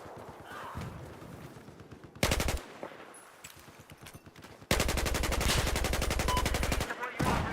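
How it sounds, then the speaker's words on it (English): Machine gun fire in the Battlefield 4 video game, with two loud, rapid sustained bursts close by, the second lasting a couple of seconds, amid quieter game sounds. "there appears to be a hostile machine gunner"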